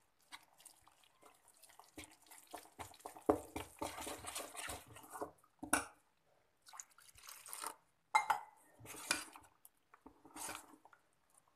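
Rava dosa batter of semolina and water being stirred with a spoon in a bowl, giving wet squishing and dripping sounds in irregular bursts with short pauses, close and fairly quiet.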